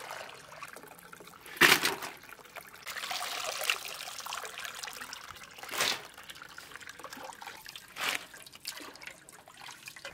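Water trickles and drips steadily from washed potatoes in a perforated colander, with a few louder splashing gushes as it runs off and drains away nearby.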